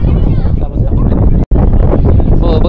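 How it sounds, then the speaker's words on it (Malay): Wind ahead of rain buffets the microphone with a heavy, rumbling roar on the Menara 188 skydeck in Kuantan, Malaysia, while a person talks over it close by. "Oh, berangin nak hujan."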